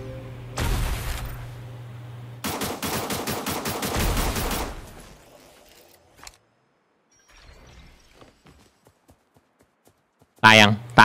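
Gunfire in the mobile battle royale game Cyber Hunter comes in two loud rapid bursts of shots, followed by quieter scattered pops and a sharp blast near the end, with a player talking.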